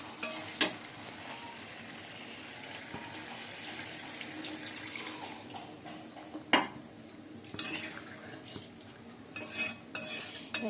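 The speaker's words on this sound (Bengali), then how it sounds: "একটু গরম জল দিয়ে দেবো ভালো করে কষিয়ে নিচ্ছি" Masala being stirred in a kitchen pan with hot water added: faint scraping and clinking of a utensil against metal, soft watery bubbling underneath, and a few sharp knocks scattered through.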